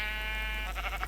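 A sheep in the Minecraft Tekkit video game gives a single short, wavering bleat near the listener, heard alone without talk.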